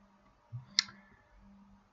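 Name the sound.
computer mouse right-click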